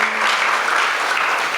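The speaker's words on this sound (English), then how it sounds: "big round of applause" Audience applause in a community appreciation gathering at ISKCON Chicago, a brief, even burst of many hands clapping close and loud.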